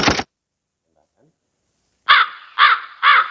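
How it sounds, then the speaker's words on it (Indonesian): Crow caws played as a sound effect from a live-streaming sound card: one short caw, a long silence, then three loud, close caws in even succession. "suara burung."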